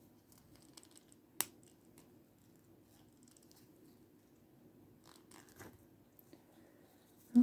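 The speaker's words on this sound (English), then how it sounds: "I want to take these wire cutter, these jewelry, black cutters, whatever you want to call them, and snip this" Jewelry wire cutters snipping a head pin for a miniature dollhouse flour sifter, one sharp, close click standing out against near silence, with a few faint handling taps afterward.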